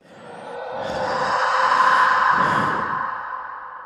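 A single long, slow breath, rising and fading over several seconds, close and airy with a soft hiss and no talking.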